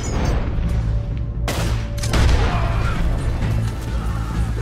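Gunfire in the video game Red Dead Redemption 2, played on PS4: loud, dense bursts of shots and booming blasts run steadily throughout, with sharp louder cracks near the middle.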